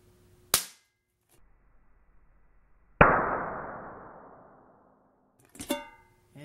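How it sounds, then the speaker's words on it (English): Capacitor discharged through a contact point lets out a single loud, sharp crack, like a cap gun, ringing off over about two seconds, with fainter snaps just before and after. "not too much damage, but it was a significant spark"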